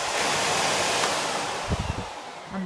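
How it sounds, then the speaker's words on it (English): A Miele vacuum cleaner runs with a steady, loud whooshing roar, a few soft knocks as it moves near the end. "Fabulous little Hoover, definitely recommend it."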